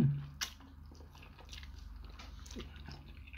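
Homemade carbonara pasta being eaten up close, a sharp bite followed by soft wet chewing and squishing against a low steady hum, quiet and intimate with no talking.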